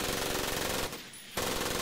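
Machine gun fire in the World War II shooter game Medal of Honor: Pacific Assault sounds as two rapid, loud bursts split by a brief gap, close and without any voices.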